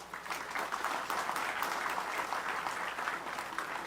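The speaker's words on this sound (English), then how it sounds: "Give yourself a round of applause." Police officers clapping for themselves at a Christmas lunch on a military base camp, a dense, steady round of applause heard from a distance and fairly faint.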